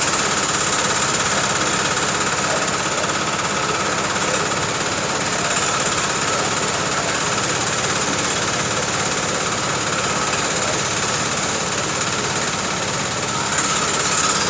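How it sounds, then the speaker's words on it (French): The engines of a GBU 30L drilling machine run together at drilling speed, a loud, continuous rattling drone that holds steady throughout at close range. "c'est comme ça qu'on fait le forage avec le GBU 30F, avec différentes vitesses que vous voulez"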